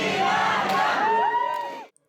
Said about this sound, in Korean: 이낙연 전 대표가 등장하자 지지자들의 환호가 터져 나옵니다.